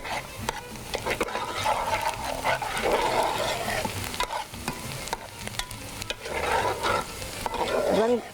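Onions frying in a pan for paya masala, a continuous close sizzle with regular scraping and clattering strokes of a spoon stirring through them, swelling and easing in waves, no talking.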